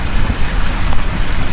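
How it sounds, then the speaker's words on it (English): Hurricane Sandy in Maryland sends strong wind roaring and buffeting into the microphone as heavy rain pours, a dense, continuous wash of noise with no voices. "That is insane wind right there."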